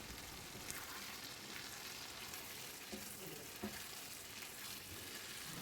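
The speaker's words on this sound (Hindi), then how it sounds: "तकरीबन 10 मिनट हमने इसको हल्की आंच में अच्छी तरह फ्राई करने हैं।" Mutton and masala frying over low heat in a karahi, a soft continuous sizzle and hiss with a few faint stirring scrapes, no one speaking.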